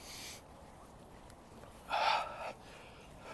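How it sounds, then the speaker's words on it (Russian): Mouth breathing during a breathing exercise: a soft, airy exhale swells up briefly near the middle and then fades, set against a quiet, hushed background. "И дыхание само собой начинает происходить. Через рот хорошо это слышно."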